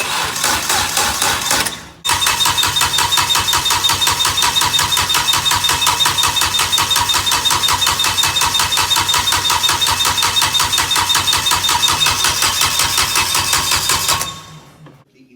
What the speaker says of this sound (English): But what it does do is turns the engine over.